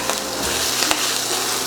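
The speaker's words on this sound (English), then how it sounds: "Sizzle, sizzle." Bacon sizzles in a frying pan, a close, steady crackling hiss with scattered small pops.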